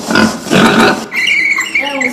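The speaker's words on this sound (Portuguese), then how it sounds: "É o som do porco! Isso mesmo!" A pig oinks in a short burst of grunting snorts, followed by a brighter voice-like tail, fairly loud and close.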